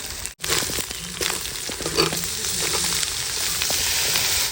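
Tomatoes tipped into ginger and garlic frying in an outdoor village pan for goat intestine curry, setting off a loud, sustained sizzle with crackling and scraping up close.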